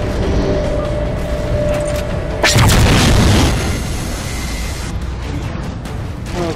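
A heavy explosion strikes the Mammoth vehicle in the Halo 4 video game, a loud booming blast rising out of constant battle noise and rumbling on for about a second before settling back into the din.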